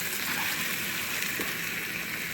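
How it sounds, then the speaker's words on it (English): Water poured into a pan of cauliflower masala, a steady close hiss and gush with no talk. "So now I'm gonna add some water to it, so that leave it for cooking."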